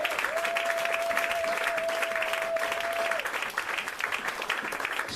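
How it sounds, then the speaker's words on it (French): Church congregation applauding steadily, a dense wash of clapping with cheering throughout, a sustained sung or whistled tone running over the first three seconds. "Acclamons Jésus"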